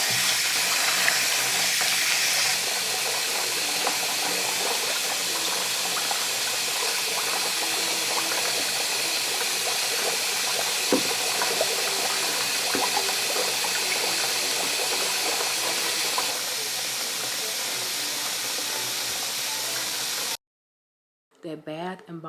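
Hot tap water runs steadily into a baby's oatmeal bath, a constant gushing fill that cuts off abruptly near the end, after which a voice speaks briefly.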